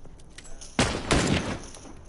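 Gunfire in the video game The Last of Us, two loud, sharp shots in quick succession, each with a short echoing tail over faint background sound.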